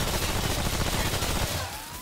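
Rapid gunfire from a weapon in the video game Remnant: From the Ashes, a dense, continuous burst of loud shots for about a second and a half, then a thinner ringing tail with a rising whine.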